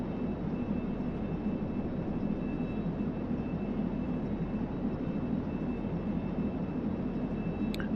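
Steady, loud engine drone of an autogyro in flight during a test flight, holding a constant low-RPM tone with no voices over it.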